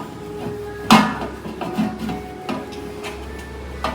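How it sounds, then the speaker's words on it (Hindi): Pots and dishes being washed at home: scattered clinks and clanks of metal utensils, one sharp clatter near the start, over a low background hum. "बस ये सारे बर्तनों को क्लीन कर रही हूँ।"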